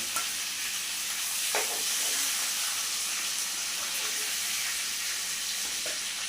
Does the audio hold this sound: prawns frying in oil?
yes